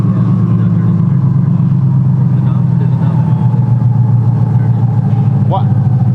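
A Corvette C8 twin turbo engine idles in a steady, low, even rumble that runs throughout, heard up close while people talk over it.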